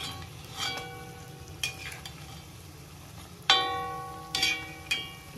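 Samosas fry on a low flame with a faint, soft sizzle, broken by several sharp metallic clinks of a utensil against the pan.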